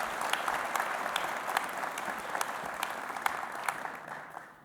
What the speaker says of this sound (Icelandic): Klappa hérna henni.